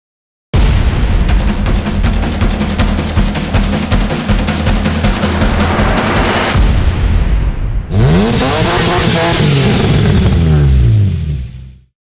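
Cars on a BMW breakfast run with an AMG and E30 models, heard loud and close as an engine revs hard and climbs through gears, then a second burst of roaring acceleration that fades out at the end.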